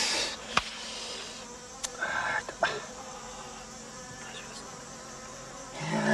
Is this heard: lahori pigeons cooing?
no